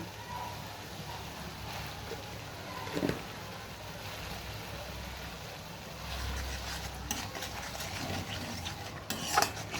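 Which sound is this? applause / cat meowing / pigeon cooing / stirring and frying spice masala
stirring and frying spice masala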